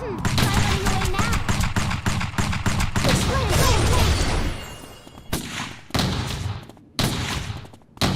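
In the Eternal Return video game, a sniper fires several sharp, heavy shots near the end, following a dense stretch of game voices and combat noise.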